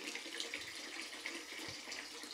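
Water runs from a household tap in Bucha, Kyiv region, a faint, steady splashing hiss with small dips and no voices.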